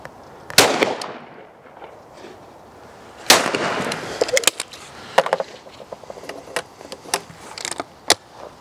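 A competition shotgun fires sharp, loud reports outdoors: a single blast, then a second, followed by a scatter of smaller clicks and clacks as the gun is handled.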